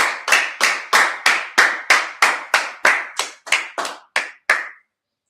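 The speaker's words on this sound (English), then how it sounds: "Clap it up" Roughly a dozen loud, sharp unison claps from a class at a religious gathering, evenly spaced at first, then growing uneven and trailing off into silence.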